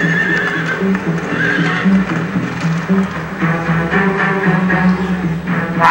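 A horse neighs and whinnies loudly several times, with faint hoofbeats underneath.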